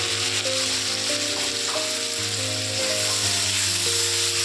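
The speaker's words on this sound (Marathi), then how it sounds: "तेल गरम झालेलं आहे आणि त्याच्यामध्ये आता कांदा टाकून द्यायचा" Onion hits hot oil tempered with cumin seeds and sizzles loudly and steadily up close, a dense frying hiss with faint stirring scrapes underneath.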